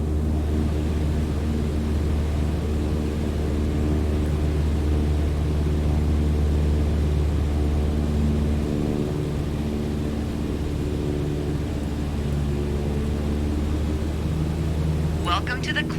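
Light propeller airplane engine at full throttle during a climb in Microsoft Flight Simulator 2020, a steady droning hum with a constant low rumble, close and continuous.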